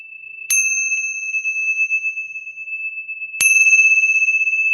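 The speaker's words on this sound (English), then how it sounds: "Oh, but I have those. yeah, The Tibetan bells." Tibetan bells are struck twice, each strike a bright, close metallic ting that rings on with a long, sustaining pure tone, the second arriving about three seconds after the first, with no talk.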